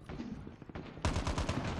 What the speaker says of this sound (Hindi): मशीन गन है मेरे पास